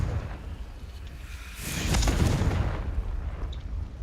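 Confringo blasting spell going off in Hogwarts Legacy, a single broad rumbling burst that swells from a low steady background, peaks near the middle, then tails off into a lingering roar.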